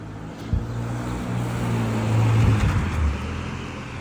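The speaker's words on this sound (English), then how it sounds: "a couple of Teslas" A couple of Teslas roll past on a city street near an embassy, a low steady road hum and tire rush swelling gently toward the middle and fading, with no voices over it.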